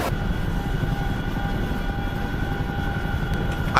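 Steady droning rotor and engine roar from a Chinook helicopter in a video game, continuous and loud with a constant whine throughout.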